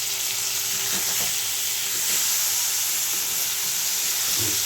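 Slit green chillies frying with eggplant in a pan, a continuous close sizzle with a few stirring scrapes and clinks, loud and steady, no voices.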